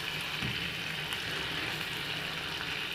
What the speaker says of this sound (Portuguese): Fritando aqui o figozinho, galera.